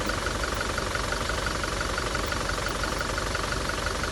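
Toyota Innova Crysta diesel engine running steadily after a carbon cleaning treatment, a dense, even idle hum with a faint knocking texture, close and constant throughout with no talk.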